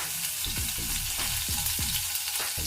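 A bread pakoda mixture with chopped green chillies and grated ginger fries over a medium flame, giving a loud, continuous sizzle. A spoon stirs and scrapes the pan at a regular rhythm, and no one speaks.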